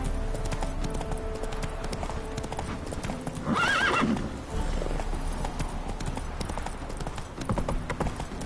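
Hoofbeats of Roach, the horse in the video game The Witcher 3, clip-clop steadily throughout at close range, with a brief whinny midway and faint voices underneath.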